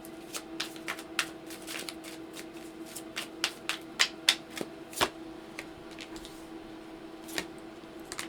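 Tarot cards are shuffled by hand in quick, crisp riffling bursts and soft snaps, close by and fairly quiet, with brief pauses between shuffles over a low steady background hum.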